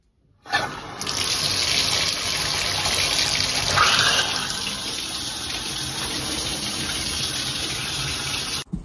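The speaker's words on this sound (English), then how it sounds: "I'm gonna take a shower." Water from a home shower runs in a steady, continuous hiss after a sudden start, fairly loud and close, then cuts off abruptly at the end with no voices.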